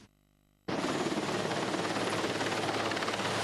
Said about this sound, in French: L'hélicoptère présidentiel qui se pose ici à Aboumi